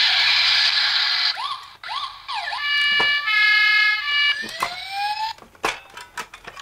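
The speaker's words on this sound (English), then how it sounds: "the sirens" Siren of a Bruder toy police Jeep Wrangler, an electronic wail that rises and falls, then switches to a steady tone, close and loud, with clicks and handling noise at the end.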